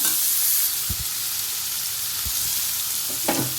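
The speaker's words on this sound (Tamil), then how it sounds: "அவரக்காய் வெங்காயம் எல்லாமே சேர்த்து போட்டுக்க போகிறேன் ஒரு அஞ்சு நிமிஷம் இதை வதக்கி விட்டுடலாம்" Broad beans and chopped onions sauté in a hot pan, a steady close sizzle with a few soft stirring knocks and scrapes, no voices.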